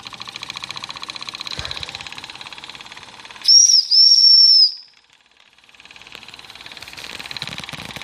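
A D5 model steam engine runs with a steady mechanical chatter, then a loud, shrill steam whistle blows for about a second and a half, followed by a brief lull before the hissing engine picks up again.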